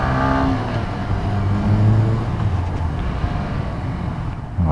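A Yamaha M-Slaz motorcycle engine on its stock exhaust revving up close, loud throaty pulses rising and easing over a steady running rumble.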